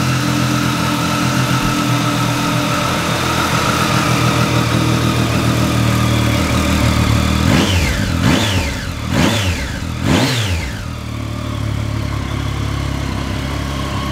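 A 2016 Triumph Street Triple 675R with its baffle fitted runs at a steady idle, then gets three sharp, loud throttle blips that rise and fall in quick succession before settling back to a smooth close idle.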